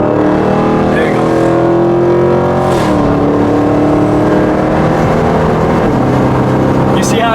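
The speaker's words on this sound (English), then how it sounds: "You see how it shifts so much better now? It's more aggressive, the shift." A Dodge Scat Pack widebody engine roars loud and close from inside the car, its pitch climbing steadily and then dropping at each of two gear shifts, with a brief voice heard.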